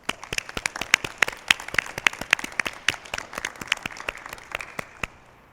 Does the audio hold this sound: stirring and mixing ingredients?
no